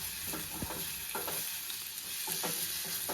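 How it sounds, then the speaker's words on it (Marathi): Spicy Kolhapuri-style curry stirred in a pan, a steady frying hiss with several quick scraping strokes of a spoon, close and alone without talk. "हे जरा झणझणीत बनवणार आहे मी कोल्हापुरी स्टाईलमध्ये प्रॉपर जरा जरा मिक्स करून घेऊया"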